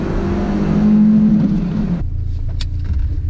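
BMW E30 318is engine revving up hard, a loud rising drone that peaks and then drops sharply as the revs fall away, settling into a lower rumble with no talking.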